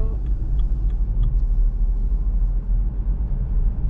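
A BMW 118d diesel car pulls hard under acceleration, a steady low engine rumble and road drone filling the cabin continuously, with some faint voices in the background.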